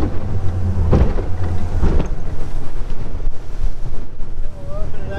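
A 2004 Tahoe Q4 sport fish and ski boat running on the water, with heavy wind buffeting the microphone over a low engine drone and splashing chop, plus a couple of louder thumps from the hull.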